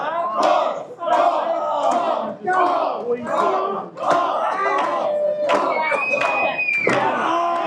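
Wrestling crowd cheering for Kongo Kong at an LLW heavyweight championship match, loud rhythmic chanting and shouts in repeated bursts that fill the room.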